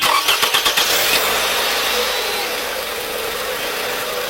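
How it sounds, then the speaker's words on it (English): A car engine cranks in a quick series of pulses, then catches and settles into a steady, loud running hum. "Now we're going to start the engine and see if everything works."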